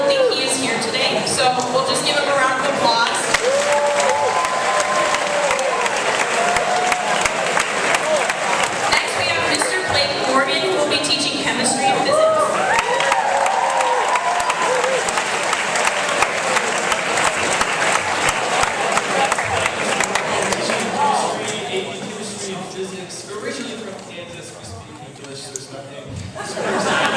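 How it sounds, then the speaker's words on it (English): An assembly audience applauds at a school welcome gathering, dense clapping from a large crowd sustained for nearly the whole stretch, mixed with chatter and a few chuckles before it thins toward the end. "so we'll just give him a round of applause"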